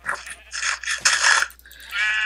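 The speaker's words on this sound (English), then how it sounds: "there's actually a lot of sheep here" Several sheep bleat in a blocky Minecraft-style survival game, a run of close, wavering cries in quick succession, the last one drawn out and steady, with no talk over them.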